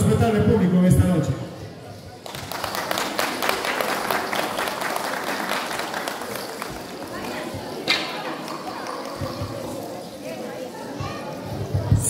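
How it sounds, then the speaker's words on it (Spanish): Crowd applause crackles and patters for several seconds at a beauty queen election, with a voice speaking over the clapping near the start. "con el aplauso de todo el respetable público en esta noche"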